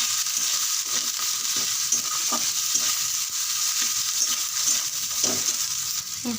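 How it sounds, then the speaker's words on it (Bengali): Ground turmeric, Kashmiri chilli, cumin and coriander fry in hot oil for a vegetarian pea dal, giving a bright continuous sizzle with rhythmic scraping strokes as a spoon stirs the pan, close and without speech. "দিয়ে একটু নেড়ে চেড়ে নেব।"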